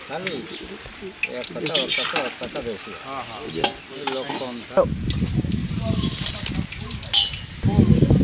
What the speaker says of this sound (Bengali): পেঁয়াজ ভাজুছি